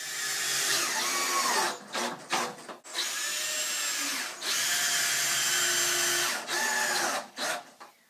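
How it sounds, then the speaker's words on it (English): A power drill bores two holes through metal hinges for a homemade wheeled cart, high whining bursts of drilling broken by short pauses as the bit stops and restarts. "You need to drill 2 holes in them so it looks like this, so it can fit on your wheel."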